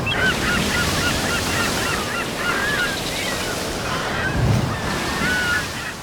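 Ocean waves wash in a continuous roar while a seagull cries out several times over the surf.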